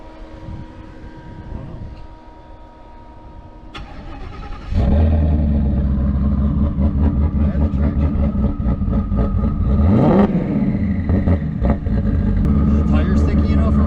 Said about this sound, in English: So right now we need to test the trans brake and the line lock and make sure everything's working right.